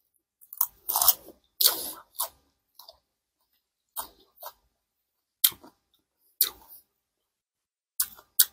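Close chewing and crunching of a food received as a gift, in irregular bursts of bites and mastication separated by quiet pauses, with no speech.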